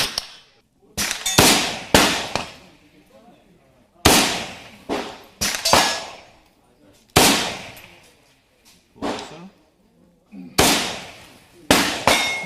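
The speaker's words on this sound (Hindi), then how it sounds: "अब इसको दोबारा सिंगल शॉट में डालकर इसको दोबारा इससे फायर कर।" Single gunshots fired one at a time from a service rifle set to single-shot mode, sharp loud cracks at irregular intervals with ringing tails, some in quick pairs.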